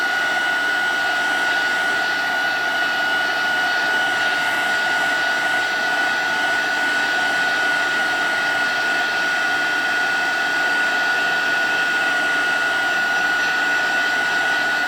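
A dryer blows a constant loud whir with a steady high whine over it as Stampin Blends alcohol ink is dried quickly on vellum paper; the sound is close, even and uninterrupted.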